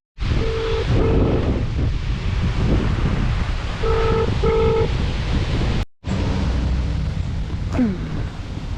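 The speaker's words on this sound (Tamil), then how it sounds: "காற்று பார்த்திங்கன்னா இங்கே வேறு மாதிரி அடிச்சிட்ருக்கு. ஸோ பயங்கரமான காற்று." Strong wind blasting outdoors, a loud continuous roar buffeting the microphone for the whole stretch, with a brief cut-out and a few short electronic beeps layered on top.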